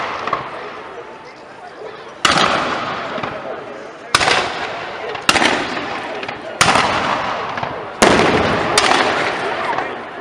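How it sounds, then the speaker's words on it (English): Tall ship cannons fire at a maritime festival in Gloucester, five loud sharp booms spaced a second or two apart, each followed by a long rumbling decay over steady crowd and outdoor noise. "I did tell you they're going to use the big guns."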